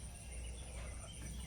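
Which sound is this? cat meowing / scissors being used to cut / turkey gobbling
turkey gobbling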